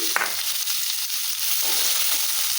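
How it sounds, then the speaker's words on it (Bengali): Chopped onions with five-spice fry in oil, giving a brief, even close sizzle with a small clink at the start and no speech. "পেঁয়াজটা একটু হালকা বাদামি ভেজে নেবো।"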